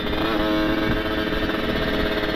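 A Kawasaki Ninja RR two-stroke motorcycle with a PWK30 carburetor and active power jet revs steadily at high RPM, a loud raspy buzzing engine note held close and continuous with slight rises and dips.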